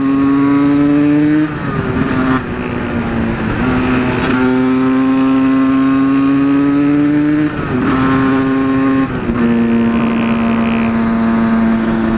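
A Yamaha WRX 125 motorcycle fitted with an Arrow exhaust is ridden hard, its single engine note droning loud and close, rising through the revs with brief dips at each of several gear changes.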